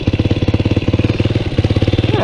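A Honda NX motorcycle engine runs close by, a loud, rapid, evenly pulsing single-cylinder idle that holds steady throughout with no talk.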